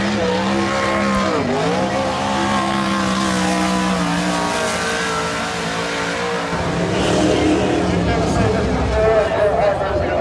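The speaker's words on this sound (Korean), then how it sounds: "시동을 건 경주용 차량은 이렇게 트랙을 돌면서" Race cars lap the track on a warm-up run at a weekend race, engines droning loud and steady with shifting pitch as they pass, tires hissing, and crowd or announcer voices mixed faintly underneath.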